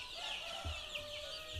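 Farm chickens cluck softly in a shed, with a few faint, scattered calls over a steady background hum and some low thumps nearby.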